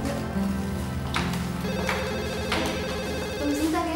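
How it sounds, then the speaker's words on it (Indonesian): A telephone rings repeatedly in an indoor scene of an Indonesian soap opera, with steady electronic ring bursts over a faint music bed. "Tunggu sebentar ya, saya terima telepon."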